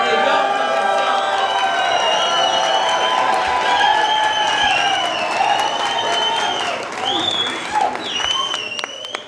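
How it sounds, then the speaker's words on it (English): An audience at a knife cutting competition at a blade show applauds and cheers loudly and continuously, with voices and whoops rising over the steady clapping. "Why don't we give a big round of applause to make all these guys super nervous about cutting"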